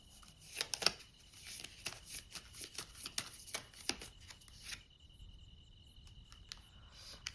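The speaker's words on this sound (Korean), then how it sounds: "잠시만요. 한 장 더 뽑아볼게요." A tarot card is drawn from the deck with quick, crisp snaps and papery rustles in a brisk cluster, close and quiet, trailing off into a few sparse clicks.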